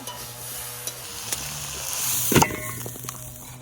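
Potato and pumpkin curry cooking in a kadai, sizzling steadily up close while a spoon stirs and scrapes against the pan now and then, with no voices over it.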